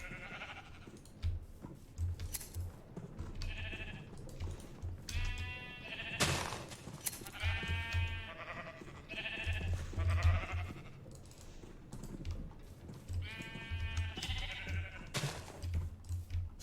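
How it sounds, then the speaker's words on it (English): Sheep bleat in a video game, a series of short, nasal, wavering calls repeating every second or two, fairly clear over a low ambient background. "Silly tiny sheep."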